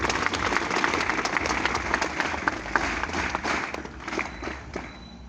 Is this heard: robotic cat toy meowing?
no